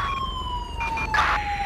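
A police car siren in the GTA V LSPDFR game wails close and loud, a steady high tone with a brief warbling burst near the end, over low engine rumble.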